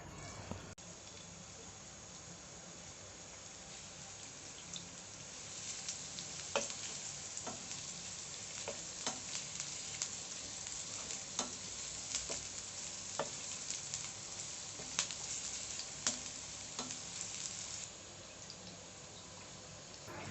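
Chopped onions frying in hot soybean oil in a pan, a steady close sizzle with scattered pops and crackles running throughout, unbroken by talk, for rice-frying dish preparation.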